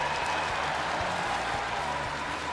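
A stadium crowd at an American football game applauds after the extra point, a dense, steady wash of clapping and cheering heard from a distance.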